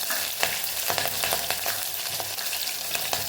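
Green chilies, ginger and cumin seeds frying in hot oil in a pan, a steady crackling sizzle with small pops and a few stirring scrapes, no voices.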